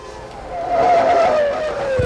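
Formula One race cars at the 1994 Italian Grand Prix at Monza, one loud, close high-revving engine sweeping past with a falling whine that swells mid-clip, then more engine noise rising at the end.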